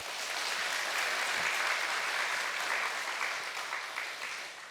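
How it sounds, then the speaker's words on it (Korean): Korean church congregation at a Sunday service applauding just before a baptism, a full, sustained burst of many hands clapping that holds steady and tapers slightly toward the end. "우리 박수하시죠."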